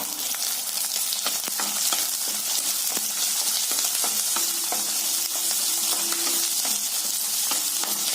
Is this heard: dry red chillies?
yes